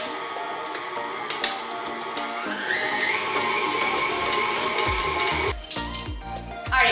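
An electric mixer beats butter and sugar at medium speed for a butter cake, giving a steady, close whirring hum with clinks of the beaters against the bowl toward the end.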